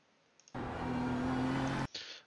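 BMW M4 GT3 race car engine at full throttle in iRacing at Bathurst, a sudden loud, steady roar that holds for about a second and a half before cutting off sharply, then a brief burst of engine noise.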